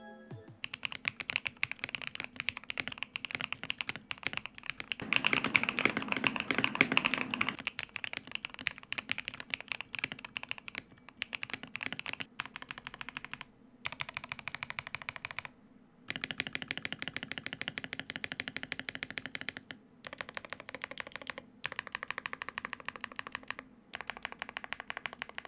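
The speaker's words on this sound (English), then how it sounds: "it really is just a nice slick black mechanical keyboard" A stock black mechanical keyboard typed on at close range: rapid, loud, clacky keystrokes in bursts with short pauses between runs, no talking.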